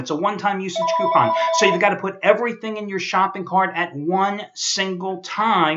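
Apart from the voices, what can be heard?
Verizon phone ringtone ringing in background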